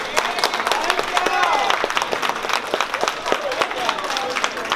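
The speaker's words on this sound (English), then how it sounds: "Can y'all give a round of applause for our staff that helped us" A crowd claps and cheers loudly and continuously, a dense wash of applause with some voices mixed in.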